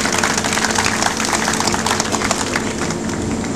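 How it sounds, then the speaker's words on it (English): An outdoor crowd at a hospital healing garden dedication applauds in a dense, steady wash of clapping that holds at an even level throughout. "Let's give them a round of applause as well."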